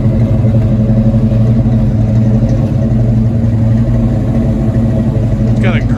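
A 1970 Chevrolet Nova engine idles steadily with a deep, low rumble that holds constant throughout, loud and close.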